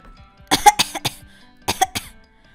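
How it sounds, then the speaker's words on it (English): Coughing in a school computer lab: two bursts of harsh, close coughs, three quick coughs then two more after a short pause, loud and unaccompanied by talk. "could you please stop coughing on my computer?"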